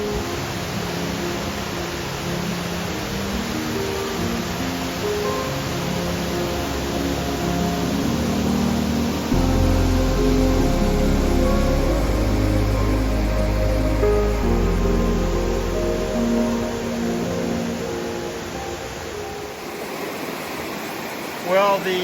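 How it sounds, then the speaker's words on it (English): A steady, loud roar of a waterfall on the Appalachian Trail fills the scene close by, constant broadband rushing with no pauses. "So this is the beginning waterfall."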